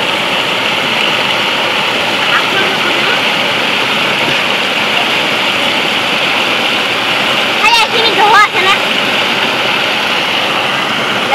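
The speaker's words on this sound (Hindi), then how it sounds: "देखो कितना तेजी से पानी गिर रहा है नीचे में, देखो बिल्कुल वाटरफॉल जैसा देख रहा है देखो" Village floodwater pours down like a waterfall in a loud, continuous roar that fills the whole stretch, with a couple of brief knocks partway through.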